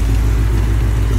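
A Ford Mustang engine runs at close range, a loud, steady low rumble of idling with a slightly uneven pulse through the brief moment.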